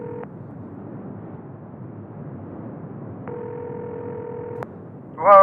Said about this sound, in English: Come on, Jake, pick up the phone.